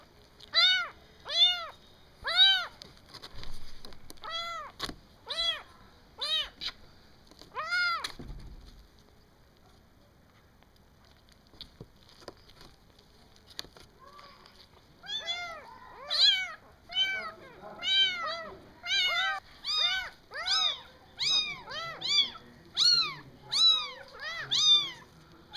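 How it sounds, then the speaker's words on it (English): Rescued kittens meow repeatedly, several voices overlapping in rapid high-pitched cries, close and loud, with a quiet pause midway before the meowing resumes more densely. "I'm handling kittens that have human urine all over them."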